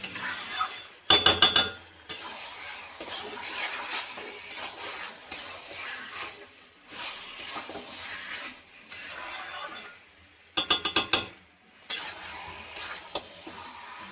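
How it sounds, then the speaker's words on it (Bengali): Chicken curry (desi chicken) stirred and sautéed over high heat in a pan, with steady sizzling and frying under repeated scraping strokes of a spoon and a few sharp metallic clinks, no talking. "এবারে গ্যাস বাড়িয়ে দিয়ে ভালো করে এটাকে কষাতে হবে"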